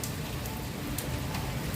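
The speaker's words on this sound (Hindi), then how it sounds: "यहाँ पे बारिश भी शुरू हो गई है" Steady rain falling during a strong storm with gusting wind, a dense continuous patter of drops on surfaces, close and fairly loud, with no voices.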